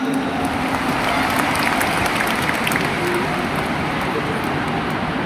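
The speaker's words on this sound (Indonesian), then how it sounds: "Luar biasa, luar biasa. Tepuk tangan semuanya." Large crowd applauding and cheering at a huge presidential campaign rally in a stadium in Jakarta, a dense, steady roar of claps and voices that stays loud and constant throughout.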